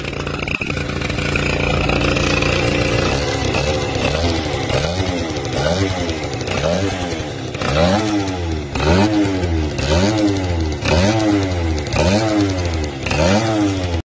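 Motorcycle engine fitted with a Chinese Keihin carburetor idling a little too high, a loud close putter that rises and falls in steady surging waves for the whole stretch.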